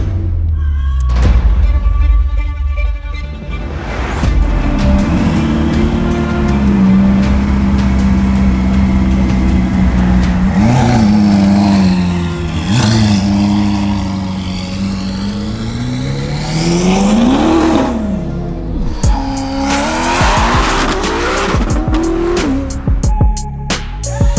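A Ferrari SF90 hybrid sports car revs hard and accelerates fast, engine pitch climbing and dropping through gear shifts, loud and close, with no talking.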